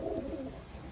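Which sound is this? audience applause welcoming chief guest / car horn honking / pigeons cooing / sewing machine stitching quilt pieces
pigeons cooing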